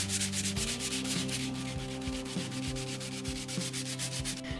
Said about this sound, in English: I finish off with some hand sanding